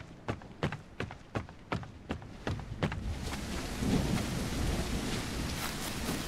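Video game rain and thunder from No One Survived: steady rain hiss with a run of sharp, rhythmic crackles early on, then a low rolling rumble of thunder swelling beneath the downpour.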